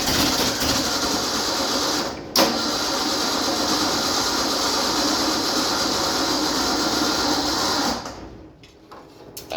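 A junkyard Ford Bronco engine cranks steadily for about eight seconds, a loud continuous churning whir from the starter that stops abruptly without catching.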